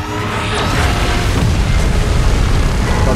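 A heavy energy-beam blast in PUBG Mobile hits as a loud, rumbling boom that swells and sustains with a rushing roar across the whole moment.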